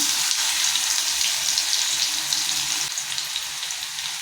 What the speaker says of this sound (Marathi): आता आपलं तेल झालेलं आहे चांगलं गरम याच्यात आपण जिरं टाकूया लसण टाकूया